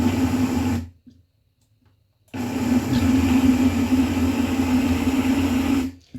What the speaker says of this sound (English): rather than go full force, I go pause, like I blend a little, I stop